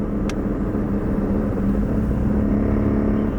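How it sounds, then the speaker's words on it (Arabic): A taxi car making an odd noise, a steady low engine rumble and whir with a faint tonal hum running throughout, close and continuous, plus one brief sharp click at the start. "السيارة فيها صوت يا اولاد"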